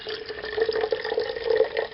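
Water poured from a measuring cup back into a small pot for a homemade double-jigger stove, a steady close trickle with a bright splashing tone that runs for about two seconds, with no talking.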